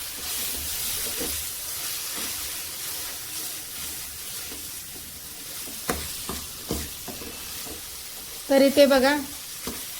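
Turmeric and garam masala are stirred into hot oil for dhaba-style whole masoor, with a steady close frying sizzle and repeated spoon scrapes and taps. Someone speaks briefly near the end.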